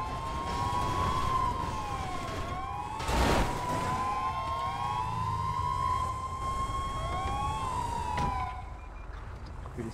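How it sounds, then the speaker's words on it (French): Police car siren in a Unity RP role-play video game, a loud wailing tone that sweeps up and down repeatedly over engine rumble, with a brief thump partway through and the wail dropping away near the end. "Couper les sirènes."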